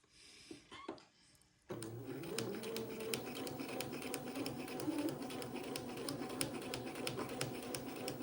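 A sewing machine stitches a seam on an Eton suit. After brief handling noises, it runs as a close, steady mechanical whir with rapid, even needle ticks, and no one talks.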